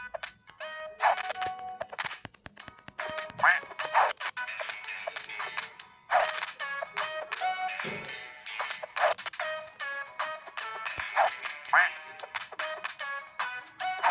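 Cartoonish duck quacks from a duck wars video game, a dense, steady stream of bright, overlapping calls with clicky game effects throughout and no talking.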